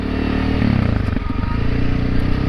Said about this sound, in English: there are times when it's fun to just, you know, twist the throttle.